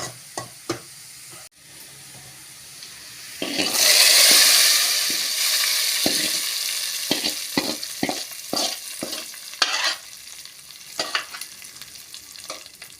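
Onions sautéing in a pan for a tempering for vallarai keerai paruppu kadaiyal, a steady loud sizzle that swells partway through, broken by repeated stirring scrapes and taps of a spoon against the pan.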